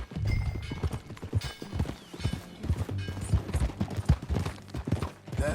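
Horse hooves clip-clopping in the video game Red Dead Redemption 2, a steady close trotting rhythm with occasional snorting and tack rattle, no talk over it.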